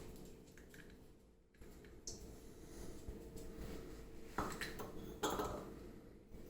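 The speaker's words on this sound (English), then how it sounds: "you're going to crack your eggs" Two eggs being cracked for a batter recipe: quiet taps and clinks against a bowl, followed by soft wet squishes and a few sharper knocks near the end, with no talking.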